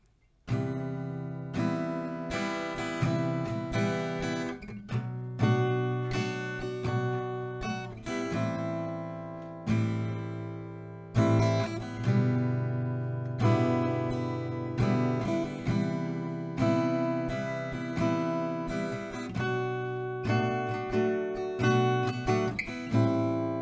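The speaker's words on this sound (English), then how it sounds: "add some extra strumming or take away some extra strumming" Acoustic guitar strummed in a steady rhythmic pattern, chords ringing continuously with regular strokes throughout, played alone and close.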